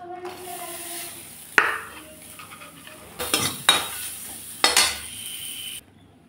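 Thinly sliced garlic and green chilies go into a pan of hot oil after shrimp have been fried, with loud metal spatula scrapes and clanks at intervals over a soft sizzle, sharp spikes in between, and no talk.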